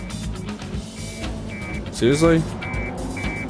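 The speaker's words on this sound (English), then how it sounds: "There's an alarm." An alarm sounds in the Miami level of the Hitman game, a repeating electronic beep pattern with a rising warble partway through, heard under a voice speaking over it.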